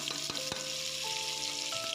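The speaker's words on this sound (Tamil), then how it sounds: "நல்லா வந்து டீப் ஃப்ரை பண்ணிக்கணும்" Onion and tomato deep frying in hot oil for mutton biryani, a steady dense sizzle with crackling pops and a few brief stirring knocks, close and continuous with no talk.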